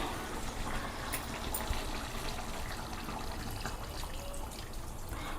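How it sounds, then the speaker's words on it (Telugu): Water pours steadily into a pot of mutton curry in a continuous, broadband gushing rush that holds an even level throughout, with faint clinks now and then. "మొక్క అంతా వాటర్ వేసేసుకుందామండి"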